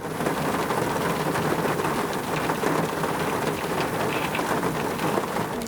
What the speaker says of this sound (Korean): 지금 이제 비가 오고 있는데